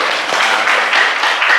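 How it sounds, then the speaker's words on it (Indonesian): A classroom of students claps together in a brief, bright burst of steady applause, fairly loud and close, with no talking over it. "tepuk tangan ya"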